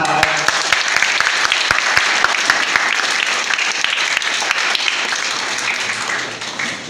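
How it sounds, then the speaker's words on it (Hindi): An audience claps continuously to honour the chief guest at the RS Convent School results day celebration, a dense, sustained ovation with a few voices mixed in. "आप लोग तालियों के साथ"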